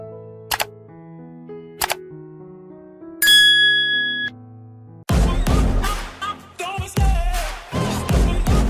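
Two short bright dings ring out, then a longer sustained chime of a notification bell sound effect, followed abruptly by a loud dense burst of music-like sound filling the rest.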